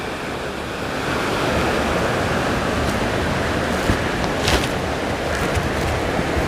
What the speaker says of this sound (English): got some waterfalls there